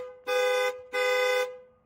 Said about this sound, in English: Wave at him. Honk. Honk. Honk.